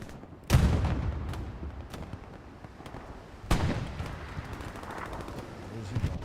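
Gunfire in a World War II shooter battle at Utah Beach: two sharp, loud blasts stand out over continuous crackling shots and rumble, with a few lighter pops scattered between them.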